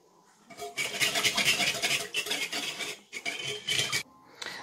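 A utensil scraping and stirring croissant dough mixture in a bowl, close, with repeated rasping strokes and clinks against the bowl in short bursts separated by brief pauses.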